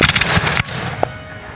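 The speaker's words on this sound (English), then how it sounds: "they could hear the crash of the musketry go off in a volley" A volley of muskets fired by Civil War reenactors crashes loudly, several reports blending into one rolling blast that cuts off abruptly, followed by a lone distant pop.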